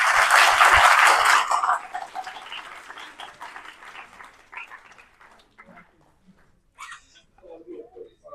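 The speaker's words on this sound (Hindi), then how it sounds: "राम सर के लिए बहुत ज्यादा देर तालियां भाई।" A hall full of people applauds at an award presentation at a taekwondo awards ceremony, loud at first, then fading within about two seconds into scattered claps, with talk and background noise afterward.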